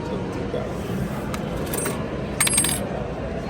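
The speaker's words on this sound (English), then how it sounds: "Oh, they're heavy coins too." Heavy metal coins drop and clink together, a few sharp jingling strikes standing out above a low, rumbling background that resembles a vehicle interior.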